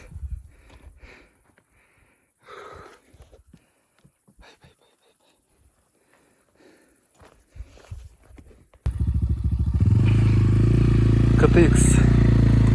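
A motorcycle engine starts near the end and idles loud and close, a steady rumble that follows a stretch of scattered talk and footsteps.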